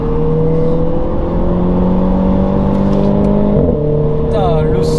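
A Renault Clio 4 RS with an RS16 bodykit revs hard under acceleration, its steady engine drone climbing through gears with a brief break at a shift, loud and close throughout.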